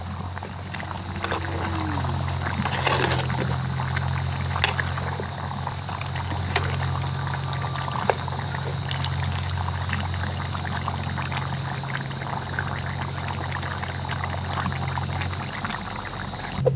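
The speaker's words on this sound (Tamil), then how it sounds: "எங்களுக்கு குழம்பு கொதிச்சு கொண்டு இருக்குது." A pot of country chicken curry (nattu koli kulambu) boils steadily, giving a constant close bubbling and simmering hiss over a low, even hum, with no breaks throughout.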